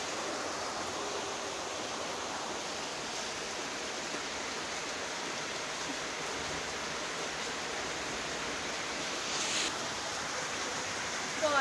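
Water leaks into a kitchen as a constant, faint rushing hiss, like steady rain or a thin stream pouring, with no distinct individual drips standing out.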